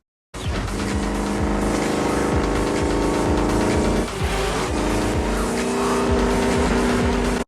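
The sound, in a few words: car engine cruising in a Furious 7 movie scene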